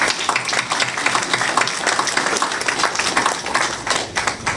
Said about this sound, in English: but give him a round of applause.